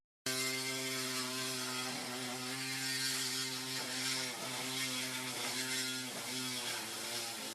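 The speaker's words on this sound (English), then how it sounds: "We got to cut some bolts, then we're cutting some bolts." A powered cutting tool drones loudly and steadily while cutting off bolts on a vehicle, its pitch dipping briefly several times as it bites into the metal, with no talk.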